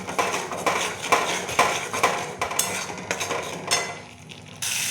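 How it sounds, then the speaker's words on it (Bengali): Spice paste cooks down in oil in a pan for aloo dum, with a soft sizzle under repeated sharp clanks and scrapes of a metal spatula stirring against the pan at a quick, uneven rhythm, no talk. "এবার আমি মশলাটা কষিয়ে নেবো যতক্ষণ না তেলটা ছাড়ে"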